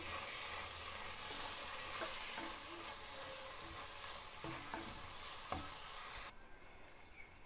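Paneer biryani masala with coriander and mint leaves is stirred in a hot pan, a steady close sizzle with scraping stir strokes throughout, then the frying noise drops away abruptly near the end.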